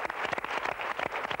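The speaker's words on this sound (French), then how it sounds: "Je vous demande d'applaudir Alain Chabat" Applause from a studio audience at a French television show, a dense patter of many hands clapping together at moderate, fairly close level, steady throughout the brief moment with no talking.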